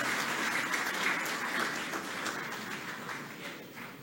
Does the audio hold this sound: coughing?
no